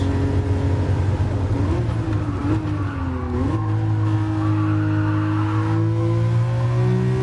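Ferrari race car in the GT Sport racing game, its engine droning loudly and steadily throughout, pitch sliding up and down with shifts and a brief tire squeal mid-run.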